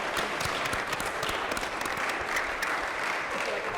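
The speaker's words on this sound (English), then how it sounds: "So give our guests a round of applause before we begin." Sustained applause from an audience welcoming guests, a dense, steady wash of many hands clapping at moderate level throughout, with no talk over it.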